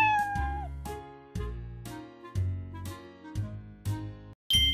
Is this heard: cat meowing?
yes